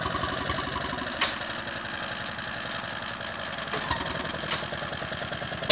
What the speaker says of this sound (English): It's a 4 horsepower, late 20s, early 30s Petter M model with calibrator oil pump.